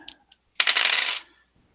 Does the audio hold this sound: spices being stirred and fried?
no